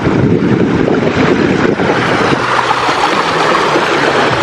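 Continuous rushing water of a stream over large rocks in Sariaya, Quezon, fills the scene, a dense, steady churning roar with some wind buffeting the microphone and no voices.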